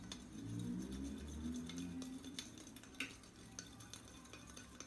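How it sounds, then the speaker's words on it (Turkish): A baking soda mixture stirred with a pipette inside a bottle, soft close scraping and swirling with light clicks and taps against the container, no speech. "Şimdi bunları pipetle iyice karıştırıyoruz"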